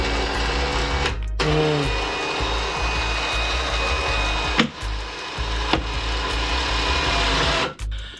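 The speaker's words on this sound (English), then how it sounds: "you'll be able to use the winch from here" Electric winch on a Can-Am X3 UTV bumper, worked by wireless remote, whirring in a steady loud motor drone that runs almost unbroken, with brief stops and restarts and a single word spoken near the start.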